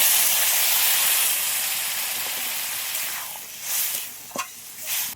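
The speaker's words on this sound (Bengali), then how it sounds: "পরিমাণ মতন জল দিয়ে দিচ্ছি।" Water poured into a hot pan of curry bursts into a loud hissing sizzle and steam that slowly fades. A few clatters and bubbling pops follow near the end.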